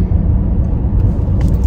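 A car being driven, heard from inside as a steady, loud low rumble of engine and road noise that stays constant without pauses.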